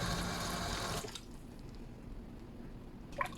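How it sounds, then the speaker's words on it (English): Water runs over strained paneer and milk solids in a strainer, a loud rushing flow for about a second, then cutting to faint dripping and trickling with a small splash near the end. "After straining, we are going to immediately wash all of this with normal water."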